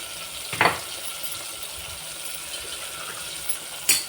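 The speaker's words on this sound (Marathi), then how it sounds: "चांगली मटकी तेलात फ्राय होऊन देऊ" Moth beans (matki) fry quietly in oil with a soft continuous sizzle, broken by two sharp clinks of stirring.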